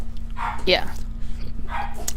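A dog barks a few times in the background, short sharp yaps spaced apart under steady room hum, fairly faint behind the foreground.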